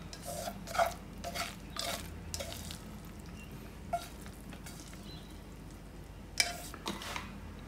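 Rabokki, spicy rice cakes with ramen noodles, being scooped from a pan into a dish: soft clinks and scrapes of utensil on pan and bowl with faint wet squishing, quiet and close, in short irregular bursts.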